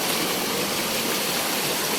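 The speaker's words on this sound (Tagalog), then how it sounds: "may umaagos na tubig doon o tumutulo na pinapaliguan ng mga bata" A mountain stream on Mount Banahaw rushes and trickles in a steady, dense wash of water noise with no pauses or voices.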